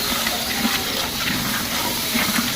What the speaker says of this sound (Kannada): ಈಗ ನೀರು ಹಾಕಕ್ಕೆ ಬರತ್ರಿ